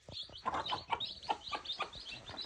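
Newly hatched chicks peep with thin, high chirps in quick, irregular bursts close by, quiet overall and with no talk.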